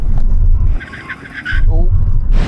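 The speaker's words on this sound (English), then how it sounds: "Full emergency stop when you hit the line from 70 miles an hour." Two cars, a Lamborghini Aventador and a 700hp Audi RS7, brake hard in an emergency stop from 70 mph, loud engine and tyre roar dipping then surging back, with a brief screech and people talking over it.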